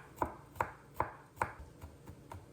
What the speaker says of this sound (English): I also diced some garlic